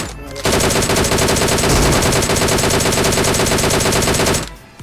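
Sustained automatic gunfire from a mobile shooter video game, loud and continuous rapid bursts filling nearly the whole stretch, with no talk over it.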